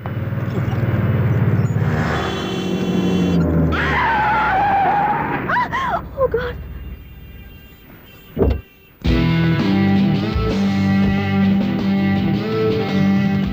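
A car brakes hard and its tires skid and squeal loudly along a road, under a steady roar of engine and traffic. The screech rises, then briefly cuts off, and the loud road noise resumes.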